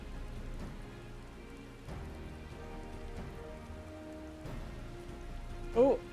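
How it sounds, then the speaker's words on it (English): Rain falls softly and steadily in the Final Fantasy XIV Dawntrail video game, a quiet continuous patter under gentle sustained in-game music. "Of course, it had to rain for this."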